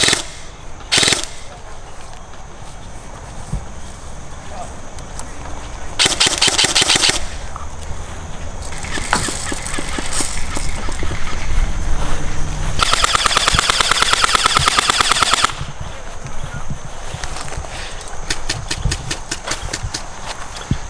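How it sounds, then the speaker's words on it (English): Airsoft guns firing outdoors during a skirmish: bursts of rapid mechanical shots come in clusters, the loudest around the middle, over steady background noise with no talk. "There's a buddy sitting to the left shooting at us."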